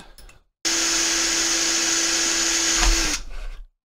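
Power drill with a quarter-inch bit boring into plastic, close and loud: a steady motor whine for about two and a half seconds, then spinning down, with handling clatter around it.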